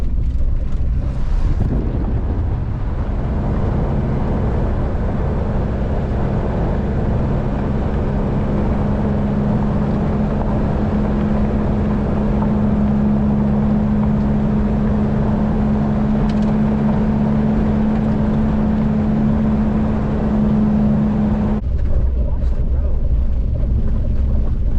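A DIY camper van drives over Atigun Pass on Alaska's Dalton Highway, its engine and road rumble a steady, loud drone mixed with wind buffeting for most of the stretch before it drops off near the end.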